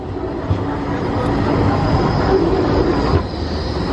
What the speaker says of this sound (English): a tram is just going by, one of Blackpool's famous trams